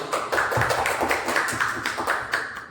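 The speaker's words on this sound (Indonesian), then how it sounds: "mari kita berikan aplaus untuk Mbak Triana Ayu" Applause for a speaker at a government orientation seminar in Surakarta, a brief, light round of clapping from a small audience that stays even throughout.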